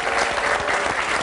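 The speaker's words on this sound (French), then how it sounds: "À notre décoratrice, Yasmine Sabes, applaudissements" A studio audience at a television talk show breaks into a short, dense burst of applause that is loud and close, lasting just over a second.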